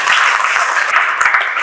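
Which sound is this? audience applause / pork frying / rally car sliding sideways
audience applause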